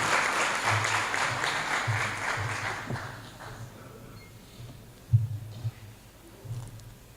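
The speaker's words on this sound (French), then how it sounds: "Madame, sous vos applaudissements, une des chevilles ouvrières de cet événement, Shrifa Aziza Fasli." A conference audience gives a round of applause that starts full and dense, then thins and fades over several seconds, with a few scattered late claps and some faint low murmuring underneath.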